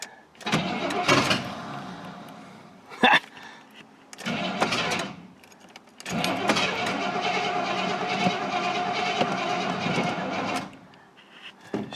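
3/4-ton Suburban engine with gas poured into the throttle body, cranking in short close bursts, then catching and running loudly and roughly for several seconds before dying away.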